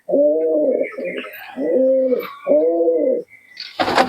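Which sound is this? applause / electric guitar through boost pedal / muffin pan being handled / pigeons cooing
pigeons cooing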